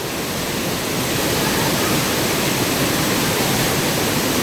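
A strong river current roars in a dense, unbroken rush of water, loud and close, filling the whole stretch with no pauses and no voices.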